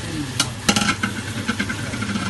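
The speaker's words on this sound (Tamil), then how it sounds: "நம்ம எடுத்து வச்ச இறைச்சியை வந்து கொட்ட போகிறோம்" Meat tipped into a pot for a special curry, followed by stirring and sizzling in hot fat, with irregular scraping strokes over a steady frying hiss.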